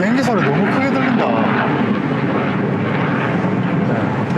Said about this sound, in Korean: 비행기 소리 너무 크게 들린다.